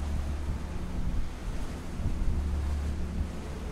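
Rough, stormy sea surf in the ship rescue game Ship Simulator Maritime Search and Rescue, a continuous loud wash of crashing waves with wind rumble, no voices.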